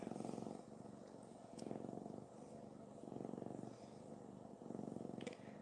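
A house cat purring loudly and steadily up close, the rhythmic in-and-out motor pulsing throughout while a person talks softly over it.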